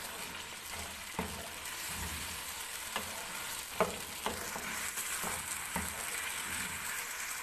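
Chicken jalfrezi stir-fries in a pan, a continuous sizzle broken by regular clinks and scrapes of a spatula against the metal, close and moderately loud with no voices.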